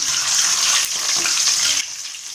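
Chicken drumsticks frying in hot oil, turned over to cook the other side: a loud, steady bright sizzle that drops slightly in level near the end as the pieces settle.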